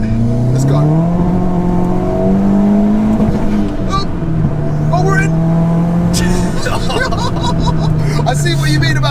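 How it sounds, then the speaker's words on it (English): A VW Fox GTI's engine revs and accelerates through the gears while being driven, its rising and falling drone loud throughout, with people talking and exclaiming inside the car. "here are some of the best bits of Jamie taking the car for a spin"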